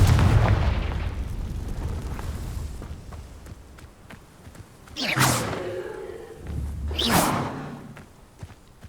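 Confringo blasting curse spells fired in Hogwarts Legacy: a rumbling boom at first, then two loud whooshing fiery blasts a couple of seconds apart, each with a bright crackling burst.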